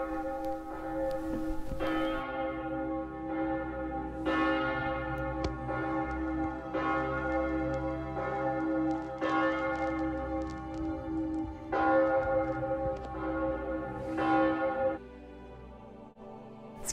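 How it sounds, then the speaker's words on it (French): The church bell of the Douaumont ossuary at Verdun tolls in slow, repeated strokes, each ringing out with long resonant overtones that overlap and fade, clear and fairly close with no talk. "C'est la cloche de Verdun."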